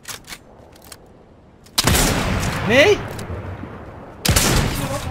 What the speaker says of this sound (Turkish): Kanka silah sesleri geliyor.